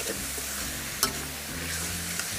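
Chicken hearts and gizzards frying in hot sunflower oil, a constant close sizzle with a low background hum and one sharp clink partway through, no speech.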